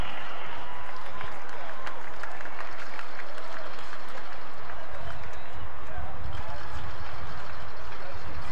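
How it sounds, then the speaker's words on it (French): A crowd at an outdoor track-and-field medal ceremony during the Jeux du Québec claps for the award winners: dense, steady, loud applause with crowd voices murmuring underneath throughout. "une bonne main d'applaudissements pour tous nos lauréats"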